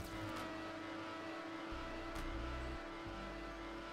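Simulated race cars in a NASCAR racing video game roar past on a banked oval, a steady engine drone with rising and falling pitch as one car overtakes, loud and continuous without talk.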